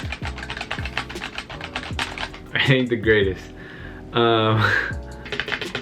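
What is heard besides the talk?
typing on a mechanical gaming PC keyboard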